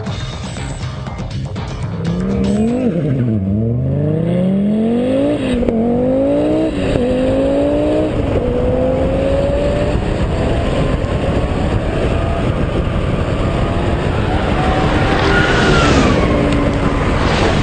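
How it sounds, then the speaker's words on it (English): An Audi Sport Quattro Group B rally car with 420 bhp drag races a modern Audi A1 Quattro. Loud, close engine roar climbs repeatedly in pitch through gear changes, then settles into sustained high revs, with no voices. "we've lined it up against our 21st century A1 Quattro for a drag race"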